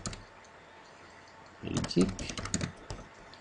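Keys tapping on a computer keyboard while a label is entered into statistics software, a quick cluster of close, crisp clicks after a quiet stretch, with a voice faintly present.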